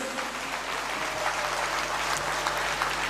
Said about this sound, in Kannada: ಚಪ್ಪಾಳೆ ಒಂದ್ಸಲ ಜೋರಾಗಿ ತಟ್ಟಿಬಿಡಿ